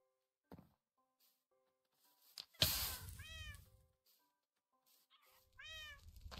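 Cats meowing in the Minecraft video game, two distinct drawn-out meows a few seconds apart with a few soft knocks and quiet gaps between them.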